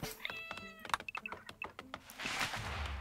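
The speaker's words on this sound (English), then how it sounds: "Also, we have a cat." A house cat meows a few times indoors, with short clicking and tapping noises mixed in and a brief breathy rustle near the end.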